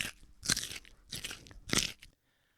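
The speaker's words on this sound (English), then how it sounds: "I'm going to bite in." Three loud, crisp crunches as food is bitten and chewed up close, then silence.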